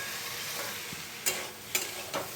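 Spice masala fries in a pan with a constant close sizzle, broken by three sharp scraping stir strokes of a spatula.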